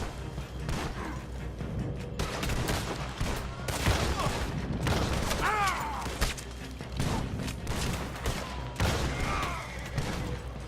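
Repeated blasts from a double barrel shotgun in the western game Red Dead Redemption 2 crack out amid a busy, chaotic firefight with other gunfire, shouts and game noise, steady and loud throughout.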